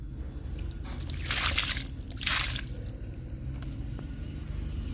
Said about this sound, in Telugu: బెండ మొక్కలకి ఇచ్చేసాను లిక్విడ్